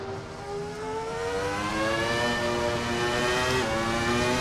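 The loud, high-pitched V10-style engine of a Ferrari F310b race car in the VRC racing simulator wails steadily. Its pitch rises gradually over a few seconds as the car accelerates, close and alone.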